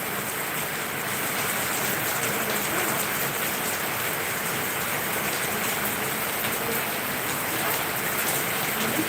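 Dense, continuous rainfall hissing evenly on surfaces, steady and fairly loud with no voices.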